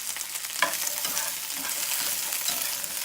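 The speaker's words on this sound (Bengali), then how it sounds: "ঢ্যাঁড়সটা আমি ভেজে নেব ভালো করে" Okra frying in hot white oil in a kadai, a close continuous sizzle broken by scraping stirs and small crackles over a few seconds, with no speech.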